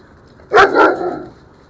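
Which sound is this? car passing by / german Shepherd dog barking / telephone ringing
german Shepherd dog barking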